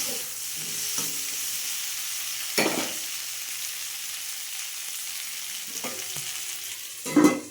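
Salted okra cooking in a pot gives a steady, close frying hiss throughout, broken by a few brief stirring knocks and scrapes.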